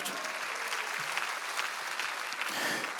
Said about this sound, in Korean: 믿으면 박수야